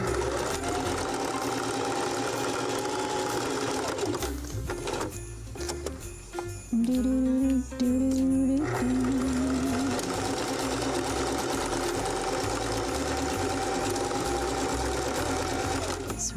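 A sewing machine runs steadily close by while stitching rope into coiled fiddlehead starters. It whirs continuously, with a short pause and a change of pitch midway, and there is no talk.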